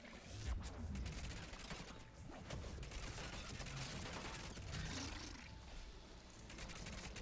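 A collector SMG in Mass Effect 3 fires in continuous rapid bursts, a dense crackling stream of gunfire that runs unbroken through the whole stretch.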